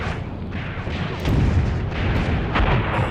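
A Panzer III tank firing in a World War II tank battle game set in 1943 Tunisia, heavy rumbling booms over dense continuous battle noise, loud and close, with no talk.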